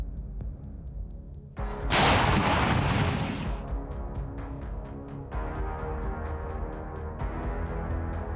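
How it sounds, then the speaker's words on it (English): A self-propelled gun in combat blows up after a direct artillery hit: a sudden heavy blast with a long roaring crackle that slowly fades over a steady rumble, while faint rhythmic clicks tick in the background. "After a direct hit, the self-propelled gun burned brightly for a very long time, and then exploded with such force"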